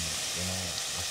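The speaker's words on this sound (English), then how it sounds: "starting up with frying everything together" Beef and mushrooms frying together in a pan, a steady close sizzle with faint clinks of stirring.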